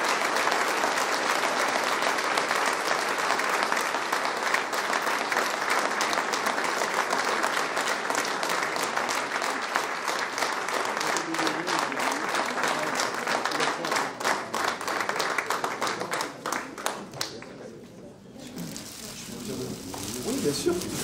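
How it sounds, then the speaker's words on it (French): An audience applauds Guillaume Toucoullet at a town medal ceremony in Tarnos, a dense, sustained clapping of a crowd that carries loudly for most of the stretch, then thins and briefly fades before picking up again near the end. "Je vous demande bien sûr de l'applaudir bien fort."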